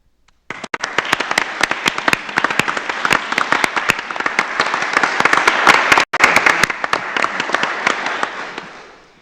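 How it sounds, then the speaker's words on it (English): Veterans, active duty members and first responders receive a round of applause at a city commission meeting, a dense, loud burst of many hands clapping for about nine seconds, steady throughout, breaking off briefly near the end. "would you please stand and let us honor you with a round of applause?"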